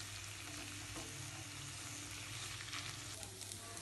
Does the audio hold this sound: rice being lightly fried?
yes